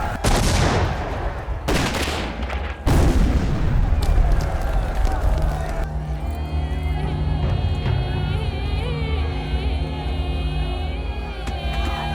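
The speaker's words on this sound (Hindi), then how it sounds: "दोनों तरफ से गोलीबारी जारी है।" Gunfire from a dubbed South Indian action film, with loud cracking shots in the first three seconds giving way to a tense, sustained musical score with mixed effects, under a full, dense soundtrack.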